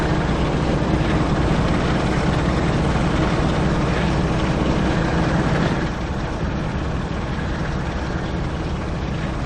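Class 45/1 diesel locomotive in Train Sim World 5 on a Leeds to Manchester Victoria run, a loud steady engine exhaust roar with the vent fan whirring, the low drone easing slightly partway through.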